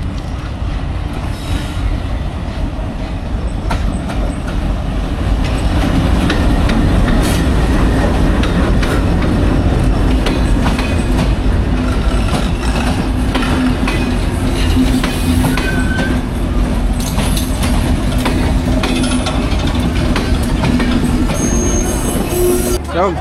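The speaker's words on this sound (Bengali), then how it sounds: "WDM 3D বা এই ধরনের কোনো লোকোমোটিভ হবে" A WDM 3D diesel locomotive pulls a train past at close range, a heavy continuous rumble with rolling wheel noise and occasional squeals, loud and steady throughout.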